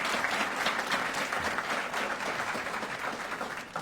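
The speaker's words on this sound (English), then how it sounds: "Another round of applause for our graduates" Steady round of applause from a crowd honoring graduates at a military supply corps school graduation ceremony, dense continuous clapping that eases off slightly toward the end, with no talking.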